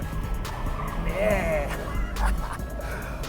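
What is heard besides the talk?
Fiat Abarth 124 Spider turbo car engine driving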